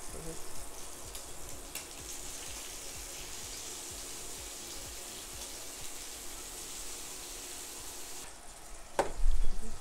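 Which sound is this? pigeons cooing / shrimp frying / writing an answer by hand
shrimp frying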